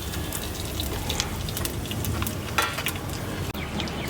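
Spices tempering in hot oil while cooking a Tamil beef bone curry give a steady, dense crackling sizzle throughout, close and continuous with a few sharper pops.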